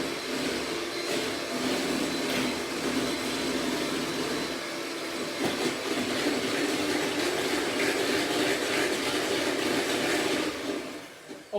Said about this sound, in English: you blend it for usually about 2 minutes